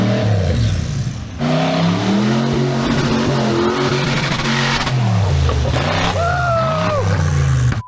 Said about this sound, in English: It's got a V8, and it sounds incredible.